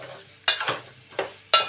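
Coarsely pounded ginger and garlic with tomato paste fry gently on a low flame, a faint soft sizzle punctuated by a few sharp spoon clinks and stirring scrapes, no voices.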